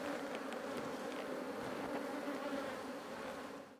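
Honeybees buzz steadily and densely around an opened hive box outdoors, a close, continuous droning swarm with no talking.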